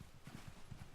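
A horse's hooves clip-clop faintly in a quick, steady rhythm as it travels along in The Elder Scrolls Online, with no voices over the steps.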